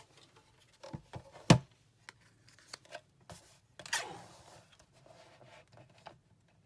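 Card stock for a Father's Day card being cut, giving a few sharp isolated snips and rustles with quiet gaps between them, close and fairly soft.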